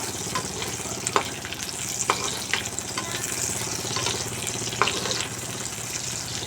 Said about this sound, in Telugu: ఇదిగోండి మిర్చి, ఆనియన్ పెట్టాను. కొంచెం ఆయిల్ వేసుకొని ఫ్రై చేస్తున్నాను ఫ్రెండ్స్.